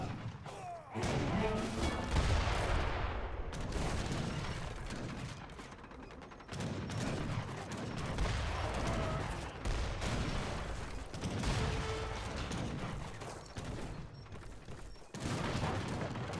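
A large multiplayer battle in Age of Empires III, with heavy cannon and musket gunfire: dense overlapping booms, crashes and crackling shots rolling on continuously at moderate distance.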